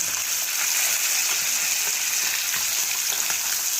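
Kendai fish fries in hot oil in a pan, giving a steady, dense sizzle and crackle throughout, fairly close and even in level with no voices.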